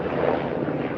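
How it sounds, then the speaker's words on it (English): A loud helicopter flying near a military airport gives a dense, continuous rumbling roar outdoors, steady throughout with no talk over it. "once again, sorry for the loud helicopter noises"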